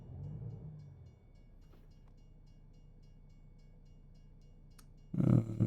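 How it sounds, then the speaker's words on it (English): A train in American Truck Simulator rumbles past with a low, steady drone and faint tones, ending in a sudden loud burst of noise, like a game sound effect. "Another train."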